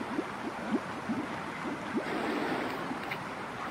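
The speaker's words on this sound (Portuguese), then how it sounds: "Riachinho brabo, água limpa." Clean water runs in a small stream in a video game, a steady, moderately loud wash with a short series of rhythmic plopping splashes, as if something is moving through the water, over continuous background noise.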